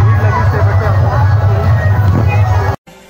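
Dense crowd babble fills an outdoor village drama show (natak), a continuous loud murmur of many voices with a low hum underneath, cutting off abruptly near the end.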